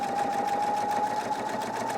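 A sewing machine fitted with a bias binder foot stitches binding onto fabric, running as a steady, continuous whir with a bright sustained hum throughout, close and alone.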